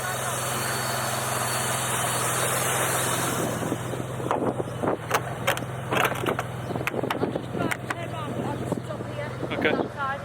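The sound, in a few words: Mitsubishi GTO engine idling and driving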